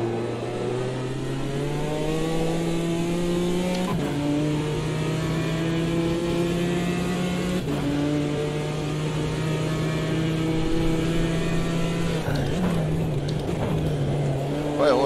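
A BMW M4 GT4 race car in the Automobilista 2 sim drones at high revs while drifting, a continuous loud engine note that steps up through gear shifts, with brief tyre and transmission noise near the end.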